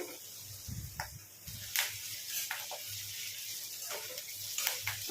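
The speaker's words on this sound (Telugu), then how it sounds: "సిమ్లో పెట్టుకొని వేయించుకోండి కాకరకాయని, అప్పుడే టేస్ట్ అనేది బాగుంటుందండి" Bitter gourd fries with curry leaves in a pan on a low flame, a steady soft sizzle and crackle with occasional stirring scrapes, close and fairly quiet, no speech.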